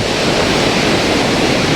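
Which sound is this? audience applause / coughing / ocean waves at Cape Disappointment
ocean waves at Cape Disappointment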